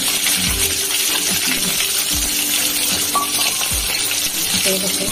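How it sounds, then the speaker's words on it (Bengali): Eggs fry in hot oil in a pan for an egg curry with ridge gourd, making a loud, steady, close sizzling hiss that runs throughout, dotted with a few faint clinks and pops, with no voices. "আচ্ছা, ডিমগুলো ভাজতে দিই, যা গরম করেছে"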